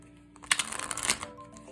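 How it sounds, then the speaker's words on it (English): A deck of playing cards gets one quick riffle shuffle during a card trick, a close, papery burst of fluttering snaps lasting under a second before the cards settle; no one speaks. "we could give it a shuffle as well"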